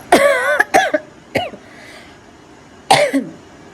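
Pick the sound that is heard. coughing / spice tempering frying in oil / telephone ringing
coughing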